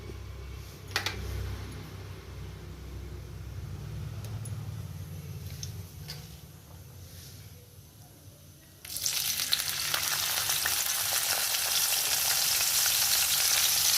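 Mustard seeds, cumin and turmeric fry in hot oil for a fish curry. A soft low sizzle and a few light clicks give way partway through to a loud, bright, continuous crackling sizzle with no speech.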